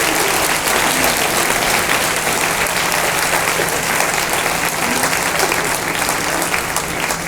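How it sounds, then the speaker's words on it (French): Audience applause fills an evening talk in Rennes as the crowd claps for a caregiver being thanked, a dense, steady wash of many hands that stays loud and even throughout. "Donc remerciement à Maëla, que je vous demande d'applaudir"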